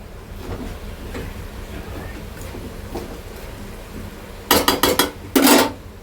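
Cabbage in a pan on a gas stove, stirred under a low steady room hum, then a burst of sharp metallic clatters near the end as a lid is set over the pan, close and fairly loud.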